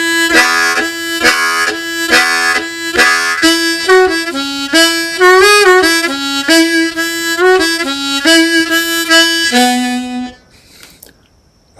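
A harmonica plays the old-time tune Going up to Hamburg and moves into a fox chase, with loud, close, rhythmic chordal blows and draws, then falls into a short near-silence at the end.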